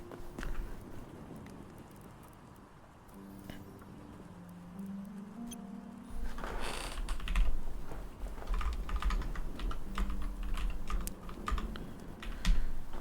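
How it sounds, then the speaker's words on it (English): Quick clattering keystrokes on a computer keyboard, typed during Hytale gameplay, steady and close over a soft game background with music tones. "Typing is hard."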